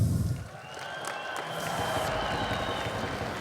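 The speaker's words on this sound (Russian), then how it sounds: "Еще раз ваши аплодисменты." Audience applause for a fighter at a combat sports event, a broad sustained wash of clapping and crowd noise filling the hall, steady and fairly close after a brief dip at the start.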